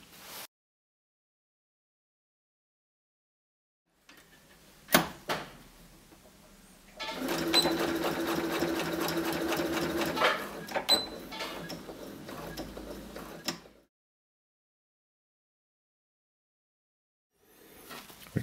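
A sewing machine runs steadily for about six seconds while stitching a trouser hem, with clicks and handling noises before and after and silence around it; no one speaks.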